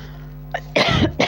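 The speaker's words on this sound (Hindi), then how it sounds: "मुझे तो पता नहीं कि इतनी खांसी आ रही है" A person coughs twice, harsh and close, after a brief throat sound, against a quiet room hum.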